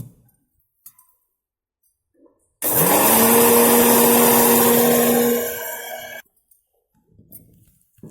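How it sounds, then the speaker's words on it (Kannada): An electric mixie jar grinds cooled roasted ingredients with a little salt into a coarse mix, a loud steady whine with a rising motor tone running for about three and a half seconds between quiet pauses. "ತಣ್ಣಗಾದ್ಮೇಲೆ ಮಿಕ್ಸಿ ಜಾರ್ನಾಗ ಹಾಕ್ಕೊಂಡು ಇದನ್ನು ಸ್ವಲ್ಪ ತರಿ ಆಗಿದ್ದು ನಾವು ಗ್ರೈಂಡ್ ಮಾಡ್ಕೋಬೇಕ್ರಿ"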